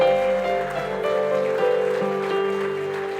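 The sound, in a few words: congregation applauding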